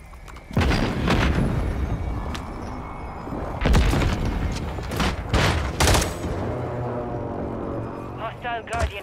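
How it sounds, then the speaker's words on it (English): Precision airstrike explosions in a video game, a string of loud booms and thuds landing one after another over several seconds, with voices heard through the barrage. "Enemy precision airstrike."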